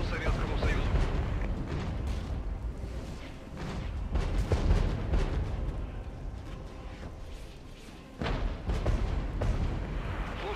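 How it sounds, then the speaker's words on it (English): Artillery strike explosions in the video game Regiments land as a series of deep, rumbling booms, with a few sharper blasts standing out, under a voice talking throughout. "There we go, it's going to be a very effective artillery strike."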